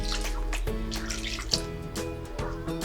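Water is poured into a bowl of grated coconut for a sweet filling, giving close splashing and trickling bursts in short uneven pulses, with background hum underneath.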